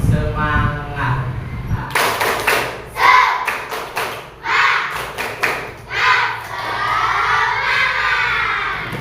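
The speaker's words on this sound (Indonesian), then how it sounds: "biar lebih bersemangat, kita tepuk semangat" A classroom of children performs a rhythmic spirit clap, tepuk semangat, with sharp group claps and shouts in bursts, loud and close, followed by cheering, after a voice speaks at the start.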